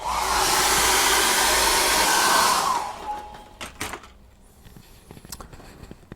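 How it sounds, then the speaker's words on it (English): A hair dryer blows loudly and steadily for about two and a half seconds, then cuts off, leaving quiet clicks and small handling noises. "I'm going to get the hairdryer on that."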